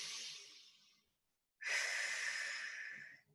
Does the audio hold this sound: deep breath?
yes